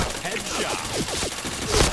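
Rapid bursts of gunfire in the online shooter game Point Blank, several quick shots in a loose rhythm with a louder burst near the end, over a busy game soundscape.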